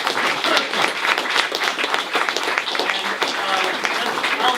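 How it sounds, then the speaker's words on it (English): A round of applause from an audience at a library talk, steady, dense clapping that stays loud and even throughout. "Let's have another round of applause for Kieran"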